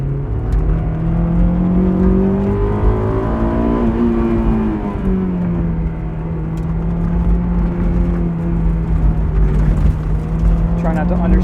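A 2001 Honda S2000 engine hums and revs from inside the cabin while driving, its tone rising and falling steadily, with people talking over it.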